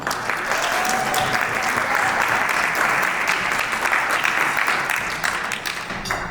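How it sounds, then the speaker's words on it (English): Loud, sustained audience applause at a beauty bar awards ceremony, a thick, even roar of many hands clapping close by that carries on for several seconds before easing slightly. "On applaudit très fort, s'il vous plaît."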